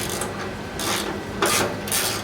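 A ratchet on a 3/8-inch drive extension with an 8mm socket turns fine-threaded fender bolts on a Datsun 280Z, giving several rasping clicks in short sweeps, close and fairly loud, with no talking.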